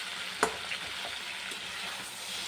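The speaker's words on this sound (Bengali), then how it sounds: "এই দেখো হালকা একটু জল দিয়ে দিলাম" A pan of simmering vegetables with lentil fritters sizzles steadily as a little water is added, with a sharp hiss and faint stirring clinks, close and quiet.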